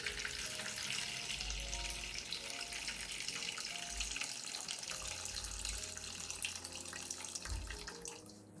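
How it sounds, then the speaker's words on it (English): Apple juice being strained for homemade orchid fertilizer, a steady continuous trickle and splash of liquid running through without pause, fairly quiet and close. "First, I strain the apple juice."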